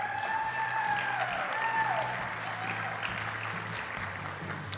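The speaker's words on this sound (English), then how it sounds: "Brought his own cheering section." Applause at an awards luncheon for a chamber of commerce, a steady wash of clapping from a large crowd that holds for several seconds.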